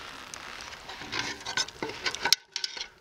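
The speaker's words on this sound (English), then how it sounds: "just cleaning up my pot here" Scrubbing and scraping inside a cooking pot at a campsite, irregular rasping strokes and soft clinks building up over a few seconds, then breaking into short sharp scrapes after a brief pause.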